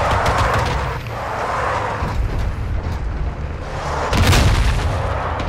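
Heavy automatic cannon fire from an APC in the video game Modern Warfare 2, a dense continuous roar of booming shots and rumbling battle noise with a louder burst near the end, no talk.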